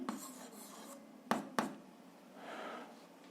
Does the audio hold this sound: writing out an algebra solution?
yes